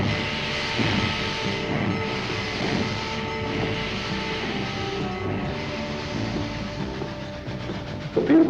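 Union Pacific 844 steam locomotive running, a continuous loud rumble with rhythmic wheel clatter and chuffing, ending in a short sharp burst.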